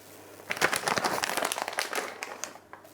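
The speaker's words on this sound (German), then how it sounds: "Während die Pasta kocht, werden wir noch ein paar Pinienkerne rösten." Pine nuts roasting in a dry frying pan without oil, giving a steady run of crackling, crinkling sizzle with scattered sharper pops, close and moderately loud with no voices.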